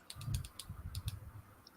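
A computer keyboard clicked during a radio show: a quick cluster of sharp, close taps, with a short pause and a couple of fainter clicks at the end, no voices.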